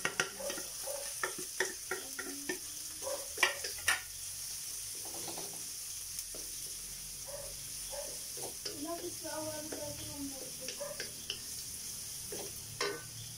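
Onion, ginger and garlic sauté in a hot pan for chicken gizzard bopis, a soft continuous sizzle broken by frequent scraping and stirring clatters, with a few faint voice-like sounds here and there.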